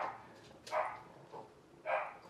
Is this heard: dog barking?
yes